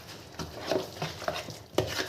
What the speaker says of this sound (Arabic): هنيجي نقلبه برده كل المكونات الحلوه دي مع بعض